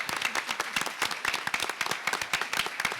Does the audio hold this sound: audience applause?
yes